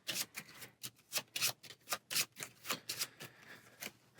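Cards from the Marvel Champions card game are shuffled close up, making a steady run of crisp riffling bursts about every quarter second, with no talking.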